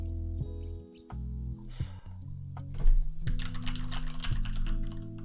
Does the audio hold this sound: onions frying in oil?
no